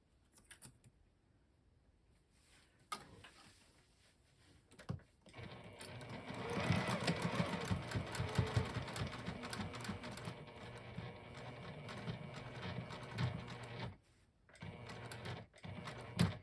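A sewing machine runs steadily for several seconds, stitching the seams of a fabric tool pouch, after a few quieter handling clicks, then pauses and starts again briefly.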